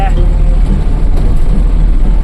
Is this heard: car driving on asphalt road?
yes